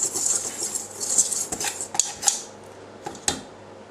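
Waffle batter whisked by hand in a bowl, a quick metallic swishing rhythm with several sharper clinks of the whisk against the bowl, close and fairly quiet.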